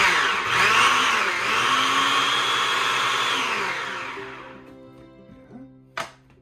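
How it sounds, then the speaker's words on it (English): A food processor blends tomatoes and peppers into a simple salsa with a loud whirring motor roar that runs steadily, then winds down and trails off, ending in a sharp clack near the end. "because it's a food processor"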